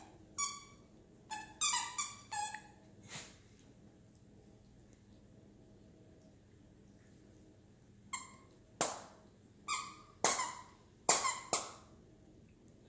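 A dog works a squeaky toy hedgehog, sending out clusters of shrill squeaks close by, with a long quiet gap between an early flurry and a later run of rapid, irregular squeals.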